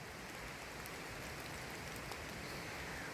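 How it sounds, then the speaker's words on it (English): A broad, steady rushing roar of water, like a large cascade heard from a distance in woodland, faint and unbroken with no voices. "It's really sounding like a massive cascade over here"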